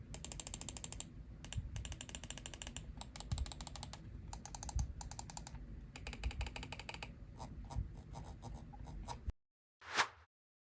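Button clicks on a Ninjutso Sora computer mouse, fast rapid-fire clicking in bursts separated by brief pauses, close and crisp, then a lone scroll-wheel click after a short silence near the end.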